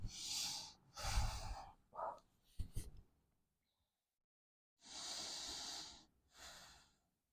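Slow, deep breaths drawn in and let out during a post-workout hip stretch, close and calm, with a few quick sniffs and short exhales between longer airy breaths.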